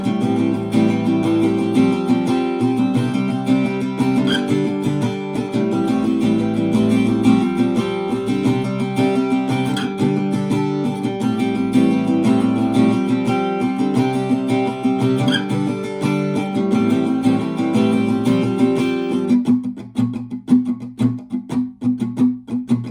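An acoustic guitar plays pre-chorus 3 of a song, a dense, continuous strumming pattern heard up close and alone, thinning to lighter picked strokes near the end.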